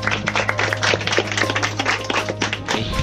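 Scattered clapping from a small group at a Catholic church project gathering, uneven close claps over a steady low hum, fairly loud and without talk.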